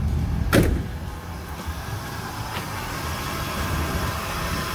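A rebuilt 327 V8 in a 1968 Chevrolet Impala SS with an automatic transmission idles steadily and quietly after a sharp click near the start, with a faint knock partway through.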